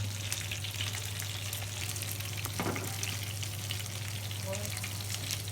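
Food fries in hot oil, a soft, steady crackling sizzle over a low constant hum, with a faint stir partway through and no talk.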